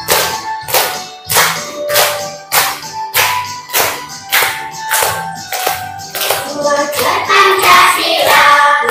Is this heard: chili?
no